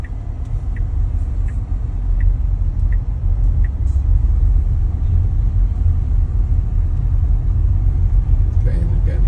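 Cars zip past along a road at a traffic light, a continuous low rumble of passing traffic with faint sharper ticks, heard from inside a moving vehicle.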